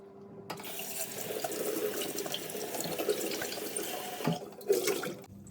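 Tap water pours steadily into a sink while limescale is rinsed from a yellowed kettle, a close, continuous gushing wash that lasts several seconds, with a few clanks and splashes as the kettle is moved near the end.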